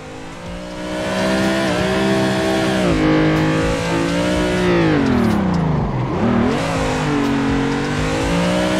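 A car engine in the Assetto Corsa racing game revs hard during a drift on a Vice City map, holding a loud, continuous howl whose pitch dips and climbs repeatedly with the throttle.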